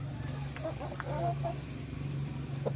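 A hen close to laying clucks softly in short, repeated notes over a steady low hum and faint background noise.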